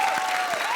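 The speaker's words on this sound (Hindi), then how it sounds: "जोरदार ताली बजाओ।" Brief burst of loud audience applause on a Comedy Circus television stage, steady and full with a tonal hum running underneath.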